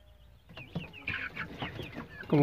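Young chickens cluck and cheep in quick scattered bursts while being fed fresh maize on a farm in San Juan Palo Seco, close by, with no talk.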